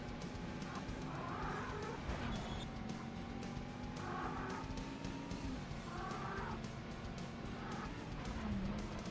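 A racing car in the Sega Saturn game The Need for Speed holds a steady engine drone with shifting pitch, while brief tire squeals and skids cut through the continuous game audio.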